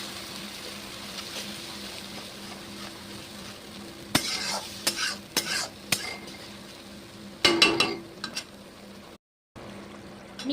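A paste of onion, garlic and chili is sautéed in a pan for omelette curry, giving a low steady sizzle under several bursts of spoon scraping and clanking against the metal, with a brief dropout near the end.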